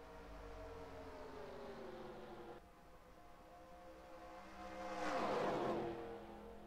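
Stock cars in the NASCAR Racing 2003 video game racing in an IROC race at Daytona, a steady engine drone that drops in pitch, then a louder car swelling past near the end, with no talking.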